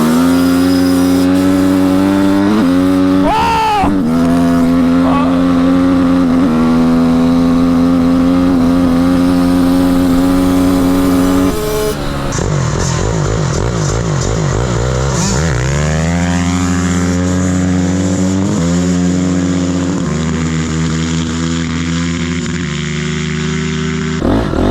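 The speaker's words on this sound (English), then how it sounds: "It hits rev limiter quick." A stock Honda dirt bike, a CR125R or CRF250R, revs hard from close by, climbing repeatedly to the rev limiter. Its loud, continuous engine whine rises and falls between gear shifts, with no talk over it.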